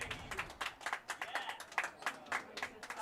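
Scattered clapping from a squash crowd after a rally in a singles semifinal, a few bursts of applause, fairly faint and distant, with a commentator talking over it.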